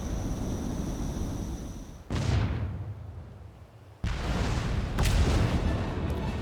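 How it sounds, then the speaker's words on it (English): Rockets fire and explode in the Final Fantasy XIV video game as loud, abrupt blasts. One bang rolls off into a decaying rumble, then a second burst is followed by a sharp crack that leads into a continuous roar. "Oh no, just activated some rockets."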